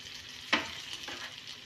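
Onions browning in a pan for biryani sizzle steadily while being stirred, with a sharp scrape of the spoon midway and a softer one a moment later.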